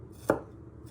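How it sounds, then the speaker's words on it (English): Garlic cloves being finely sliced with a knife, heard as a single close, crisp knife tap on a board in otherwise quiet surroundings. "And then you just want to finally slice it the other way."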